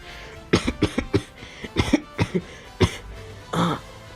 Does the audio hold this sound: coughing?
yes